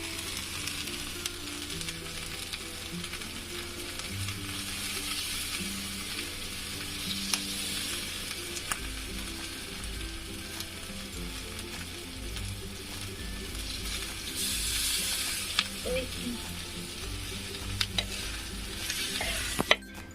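Garlic chutney sizzles in a hot pan as a spoon keeps stirring it, a steady frying hiss with soft scraping strokes and occasional clicks running throughout, close and moderately loud, with no talking.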